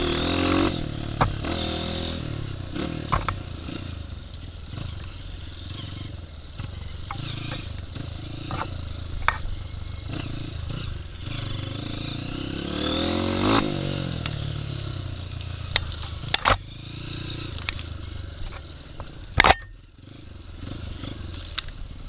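A Honda CRF 250F dirt bike rides a trail, its engine droning and rising in revs with clattering and scraping over rough ground, plus occasional sharp knocks.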